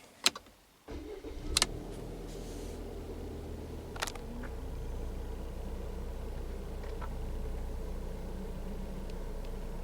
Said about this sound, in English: Then I start the vehicle.